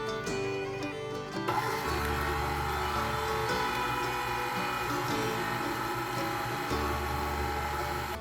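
Electric mixer whirring continuously through apple cake batter, a steady motorized drone with a slight change in load early on and no voices.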